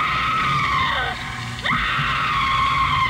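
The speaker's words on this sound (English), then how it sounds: "she screams." A woman screams in a radio drama from a 1982 New York FM broadcast: a loud, sustained, high-pitched cry that fills nearly the whole stretch, dipping briefly near the middle before rising again.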